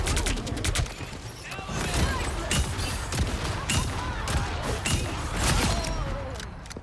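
Punisher's turret firing in the Marvel Rivals video game, a dense rapid burst of automatic gunfire going on throughout with impacts and other battle noise mixed in, loud and busy.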